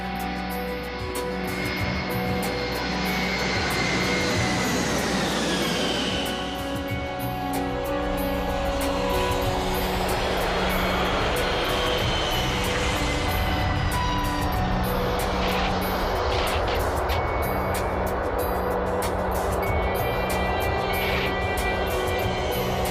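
KLM airliner landing on runway 30: a loud, continuous roar of jet engines and rushing air with shifting whine tones, steady throughout with no clear talk.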